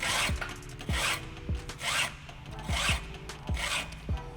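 A chainsaw chain tooth filed with a sharpener gives a series of five evenly spaced rasping file strokes, each a short close scrape with a light clink at the start, alone in a quiet room.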